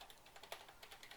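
Computer keyboard typing while entering an input action name in Unreal Engine 5 project settings, with quick irregular key clicks close to the microphone.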